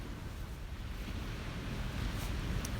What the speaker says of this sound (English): let's enjoy the sound of the waves and the beautiful colors as the sun comes up